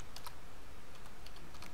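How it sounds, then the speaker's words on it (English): Quick, light clicking of fingers typing on a computer keyboard, a brisk run of keystrokes with small pauses, close and fairly quiet, with no talking. "So I'm going to type here"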